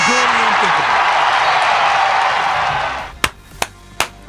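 Three sharp, loud hand claps spaced roughly evenly, heard close up right after a stretch of someone talking.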